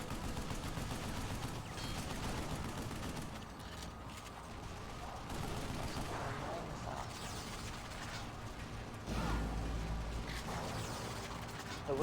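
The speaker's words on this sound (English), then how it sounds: "The wiki claims that this is the low frequency energy gun" The low frequency energy gun in the video game Vanquish fires amid dense mechanical clatter and bursts of rapid, gritty shots, with some game noise layered throughout at a moderate level.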